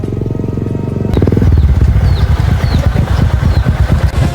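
A motorcycle engine revving and chugging close by as it rides along a muddy, slippery dirt road near the Singkil swamp, loud and steady with rhythmic pulsing.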